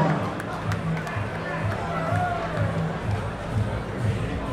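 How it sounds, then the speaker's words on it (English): A crowd at a professional boxing event cheers and chatters in a dense, continuous roar, with a voice over a loudspeaker faintly audible underneath. "a big round of applause"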